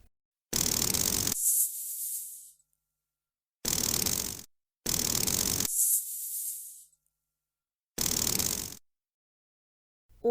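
A snake hisses in four loud, breathy bursts, each cut off sharply and followed by silence.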